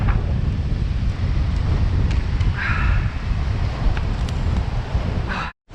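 Strong wind at a coastal rock fishing spot buffets the microphone with a steady, heavy low roar that holds almost unbroken for several seconds, then cuts off abruptly at the end.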